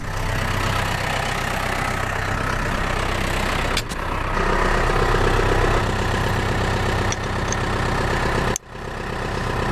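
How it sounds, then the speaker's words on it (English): A tractor or mower engine idles steadily and continuously throughout, a loud low rumble with no talking, briefly dipping twice. "I've got to leave the engine running simply because I want to be able to just make sure just on the swing arm, so engine's running on purpose."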